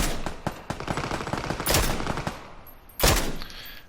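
Rapid gunfire from a practice range in the PUBG video game, with dense automatic bursts that fade out, then a sharp loud shot near the end, close and with no talking.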